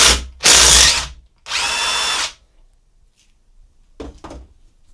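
Two loud bursts from a power tool undoing the bolt that holds the sludge trap tube on a Triumph T140 engine, then quieter clicks and a light metallic knock.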